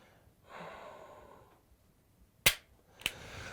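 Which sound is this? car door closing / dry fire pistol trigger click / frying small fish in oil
dry fire pistol trigger click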